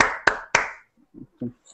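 Brief burst of audience applause following a request to clap for a Django templates talk, a few sharp claps fading quickly, then faint short murmurs of voices.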